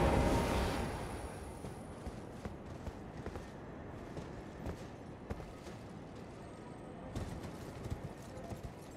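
Horse hooves clip-clopping in the Elden Ring video game, a loud burst at first, then a steady run of faint footfalls in Caelid's terrain, with soft sporadic thuds.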